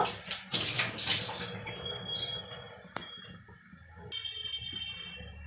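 Water from a tap splashes into a washed bowl in a kitchen while Bengali posto is being cooked. A short burst of running water comes first, then a few soft clinks and quieter drips.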